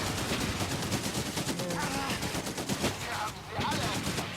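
Rapid gunfire aimed at tanks in the World War II strategy video game Blitzkrieg 3 crackles in quick repeated bursts, with a busy, dense battle mix throughout.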